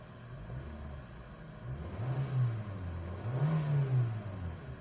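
A Kia car engine, previously suffering low power and delayed RPM response, is revved up twice in quick succession, each rise in engine pitch swelling and falling back over a steady low running hum, moderately close.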